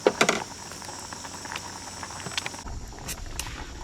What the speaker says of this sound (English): Let it boil for a while.